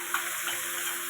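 Tomatoes and spices fry in a pan for a vegetarian aloo dum, giving a steady close sizzle with faint ticking crackles, with no talking over it.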